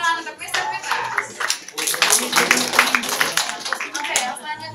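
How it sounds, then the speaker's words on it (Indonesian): Audience applause at a Mister University pageant, a lively burst of clapping from a nearby crowd that runs steadily for several seconds, with some voices and shouts mixed in. "sekali lagi beri tepuk tangan untuk Mr. Fitness"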